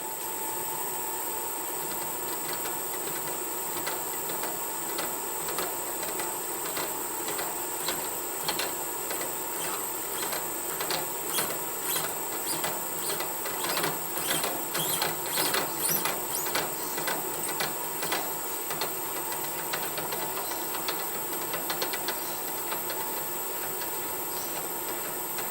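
A machine whines steadily while a hole is drilled and tapped for a 5BA thread in metal on a Stuart Turner No. 8 mill engine build, with rapid faint ticking swelling midway.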